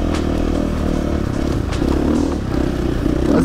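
A motocross bike rides through fine desert sand, its engine a loud, steady drone close by with scraping and clattering from the wheels churning the sand, and no talk.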